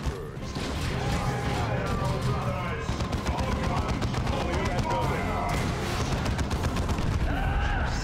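Battlefield gunfire in the video game Warhammer 40K: Dawn of War 2 rattles in rapid bursts of machine-gun fire and booming shots over a rumbling war din, with a voice talking throughout.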